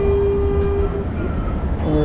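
Mexico City metro train on the blue line, a close, loud rumble of rolling wagons with a steady tonal whine inside a station, continuous throughout.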